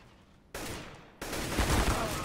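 Gunfire in Counter-Strike: Global Offensive comes in two abrupt onsets, the second a louder sustained burst of rapid shots that runs to the end.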